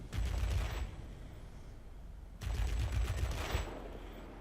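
Two long rapid bursts of heavy warplane machine-gun fire from the World of Warplanes game, the Banshee fighter, rattle loudly with a short gap between them and engine drone underneath.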